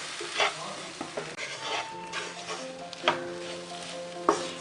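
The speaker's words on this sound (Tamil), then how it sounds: "மஞ்சப்பொடி இது கொஞ்சம் பரட்டுவோம் எண்ணெயிலேயே" Turmeric powder fried in oil for a village-style Tamil fish curry, a steady sizzle with repeated stirring scrapes and a few sharp clinks of a spoon against the pan, close and without talk.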